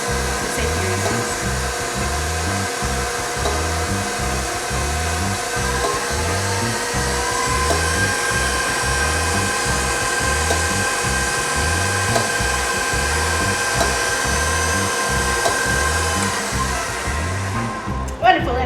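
An electric stand mixer fitted with a paddle runs steadily while mixing beignet dough, giving a loud continuous motor whine over a rhythmic low churning that holds for about eighteen seconds and then cuts off abruptly.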